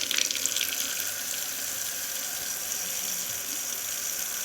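A newly installed Kohler Guild kitchen faucet runs water into the sink, a steady hissing splash that holds evenly from start to finish, fairly quiet and alone with no voices.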